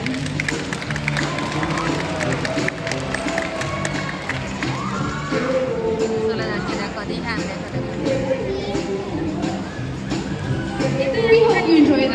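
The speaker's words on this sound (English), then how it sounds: "How about a round of applause for Maui the dolphin?" Audience at a MarineLand Canada dolphin show applauds for Maui the dolphin, a steady wash of clapping and crowd cheering with background music throughout, swelling slightly near the end.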